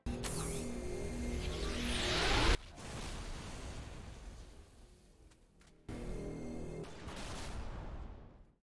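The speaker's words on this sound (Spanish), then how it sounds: "siempre que vamos a cargar el sniper para disparar, se puede escuchar el mismo sonido que realiza el láser Spartan cuando lo cargamos" A sniper rifle in Halo: Reach charges its shot with a rising electronic whine that swells and cuts off abruptly, followed by hissing, blasting bursts, all fairly faint.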